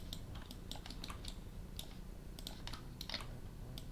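Computer keyboard keys pressed while doing 3D car modeling of a Ford GT, a string of quiet, irregular clicks with short pauses, close up and alone.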